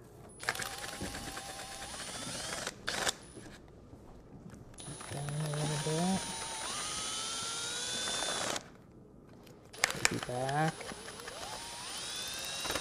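A rotary drill bit bores slowly into the foam body of a fish trophy, a close whining spin that rises and falls in pitch across several bursts, with short pauses between them.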